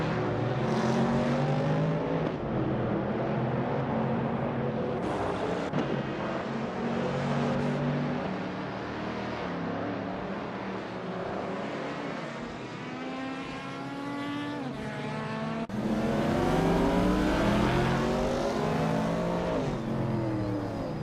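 Group 4 race cars lapping the Algarve circuit in a racing video game, engines revving and shifting gears continuously with harmonic whine rising and falling, several cars close together, loud and without commentary.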